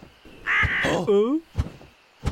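A cartoon crow caws in a loud, stylized call with a falling, warbling tone, surrounded by brief bursts of speech from cartoon characters.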